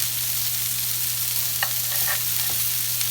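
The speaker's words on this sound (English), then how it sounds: "So now we're going to flip the meatballs. So you're gonna get them browned up" Turkey meatballs brown in a frying pan with a steady close sizzle, and a few soft clicks and scrapes sound as they are turned. A low hum runs underneath and no one talks.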